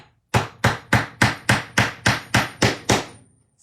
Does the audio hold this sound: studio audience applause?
no